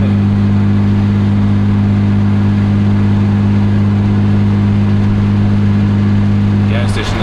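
A BMW E36 car engine runs while driving, a loud, steady low drone with a constant hum throughout and a faint rattle near the end.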